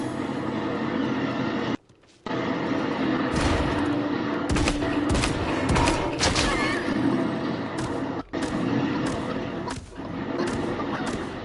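Repeated grenade launcher shots in Realm Royale, loud sharp bursts scattered over a steady rumble of game sound, with a couple of brief dropouts.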